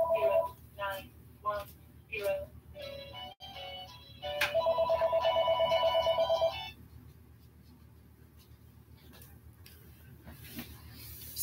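A mobile phone ringtone plays a loud, bright electronic melody of repeated tonal phrases for several seconds, then cuts off, leaving a quiet room.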